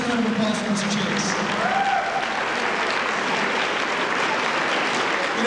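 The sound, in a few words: audience applause at a magic show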